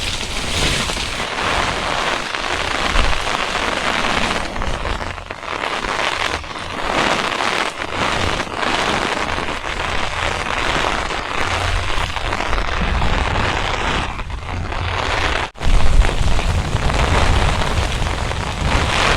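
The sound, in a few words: rain from Tropical Storm Elsa falling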